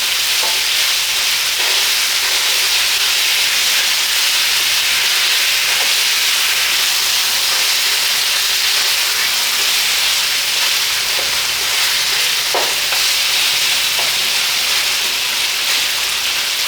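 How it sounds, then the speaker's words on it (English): Marinated lamb chops searing in a hot pan, giving off a steady, loud sizzle and hiss that runs unbroken throughout, with a few faint clicks and pops now and then. "I'm just going to cover it with a lid and we'll let it sear for like 5 minutes"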